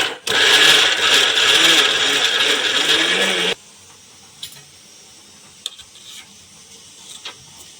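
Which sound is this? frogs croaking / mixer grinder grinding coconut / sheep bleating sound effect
mixer grinder grinding coconut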